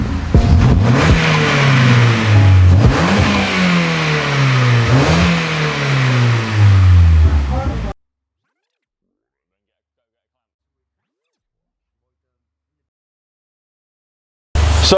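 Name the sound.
Ford Fiesta engine revving with loud upgraded exhaust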